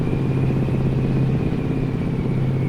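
Exhaust note of a Mack E9 truck engine in American Truck Simulator, a constant deep rumbling drone, loud and close, unbroken across the whole stretch without any voices.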